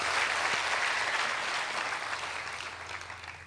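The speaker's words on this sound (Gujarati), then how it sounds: "એની આખી ટીમ માટે આપણે એક જોરદાર તાળીઓ પાડી" An audience at a Gujarati motivational talk by Sanjay Raval applauds the organising team. Broad, steady clapping from many hands gradually softens over a few seconds.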